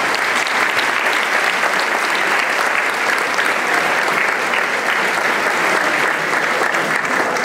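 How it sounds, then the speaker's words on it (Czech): Concert audience at a brass band performance applauds a prize winner, loud and dense clapping that stays constant and uninterrupted from start to finish. "výborný potlesk pro pána."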